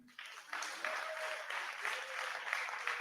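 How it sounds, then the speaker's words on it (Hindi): A church congregation at live Eucharistic Adoration claps loudly for Lord Jesus, steady crowded clapping starting abruptly and continuing throughout with a faint sung tone underneath. "हम प्रभु यीशु को जोर से ताली बजाएंगे।"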